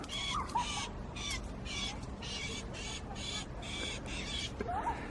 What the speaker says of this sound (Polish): Tu jest za to jakiś ptak. Słyszycie?